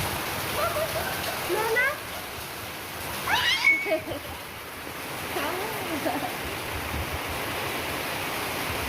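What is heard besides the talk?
rain falling and water running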